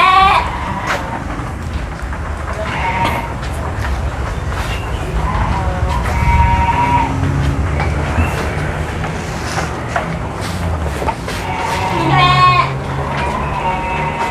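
Sheep bleating in a pen, several repeated cries near and far over a steady background rumble, with a person talking at times.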